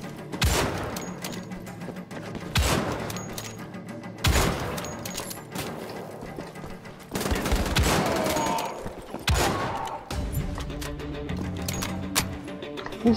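Heavy cannon fire in the video game Wolfenstein: The Old Blood: a few loud, booming blasts spaced several seconds apart, each trailing off, with smaller clattering gunshot-like impacts scattered between them.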